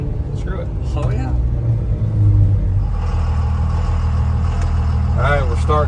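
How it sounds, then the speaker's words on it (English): A car engine at wide open throttle on a modified race car, a steady loud roar building into a rising rev, with someone talking over it early on. "We'll do a wide open throttle run."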